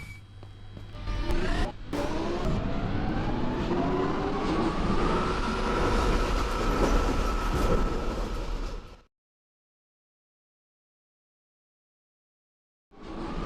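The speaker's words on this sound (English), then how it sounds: "This line employs 5-car 1996 stock trains" A five-car 1996 stock train rumbles loudly at a station platform, its steady roar building and fading before cutting to silence, then returning briefly at the end.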